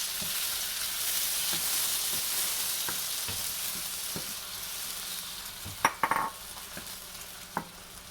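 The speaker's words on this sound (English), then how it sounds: "I'm going to go ahead and toss in my diced tomatoes" Diced tomatoes hit a pan of frying ginger with a steady, hissing sizzle. Soft stirring scrapes run under it, and a few sharp clatters of a utensil against the pan come near the end.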